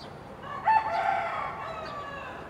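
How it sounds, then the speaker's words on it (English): A cockerel near a boutique hotel in Chiang Mai, Thailand, lets out a single drawn-out crow, moderately close and clear above a quiet background. "I can never escape the cockerels"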